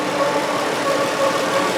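A warm Dodge/Chrysler/Jeep 3.6 engine running after an oil filter housing replacement, with a steady idle rumble and a faint tonal moan from a drive belt sustained throughout, close and loud with no talking.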